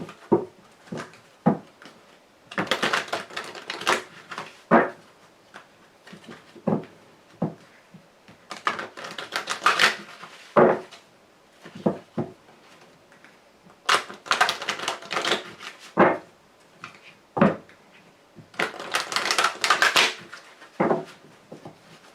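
Lenormand fortune-telling cards being shuffled and gathered up, a run of crisp riffling bursts and quick slaps of card on card in irregular clusters, close and fairly loud with no talk.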